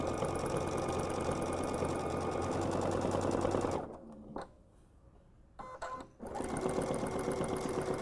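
A sewing machine stitches free-motion swirl feather quilting in a steady, loud mechanical whir, stopping briefly midway for a few soft clicks and handling sounds before resuming its rapid continuous stitching.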